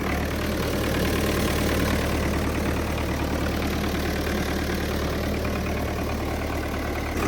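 A Belarus 80X tractor engine idles smoothly and evenly, a close, steady diesel chug with a constant low rumble throughout.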